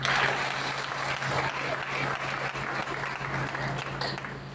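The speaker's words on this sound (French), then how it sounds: "je cède la place au révérend pasteur et docteur Junior Samedi sous vos applaudissements" Church congregation at a Pentecostal anniversary service applauds to welcome the reverend pastor, a sustained crowd clapping over a low steady hum, fairly loud and even for several seconds.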